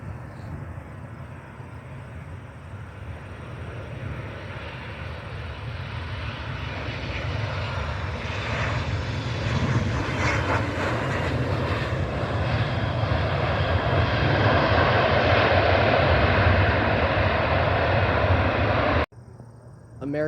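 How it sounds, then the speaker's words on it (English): Alaska Airlines Boeing 737-900 jet airliner arriving at Cleveland Hopkins International Airport, a loud sustained jet engine roar that swells as it approaches and then cuts off abruptly near the end. "It's a Boeing 737-900 inbound from Seattle."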